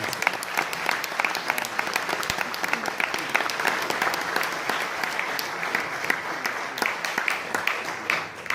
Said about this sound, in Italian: l'applauso più grande di questa sera.